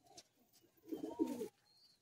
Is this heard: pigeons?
yes